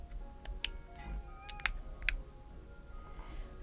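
A cat meows a few short times in the video game Calico, light and close, with soft tapping clicks and a faint steady hum underneath.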